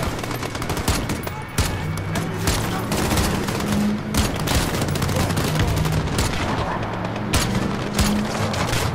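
Dense, loud gunfire in the Call of Duty: Modern Warfare campaign, with rapid automatic bursts and sharp repeated shots rattling almost nonstop over a low rumbling background.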